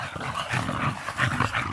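Several dogs at an outdoor kennel bark and growl in quick, uneven bursts that stay fairly close and loud, with no voices over them.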